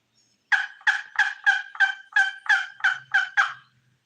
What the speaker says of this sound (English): There, he gobbled again.